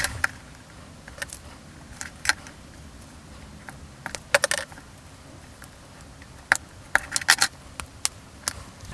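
A small plastic part being trimmed to 24 mm for a vintage Star Wars Darth Vader Star Destroyer toy restoration, heard as scattered faint clicks, snips and taps over a quiet background.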